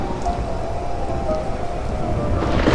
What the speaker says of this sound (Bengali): বাইরে তুমুল ঝড় বৃষ্টির শব্দ শুরু হলো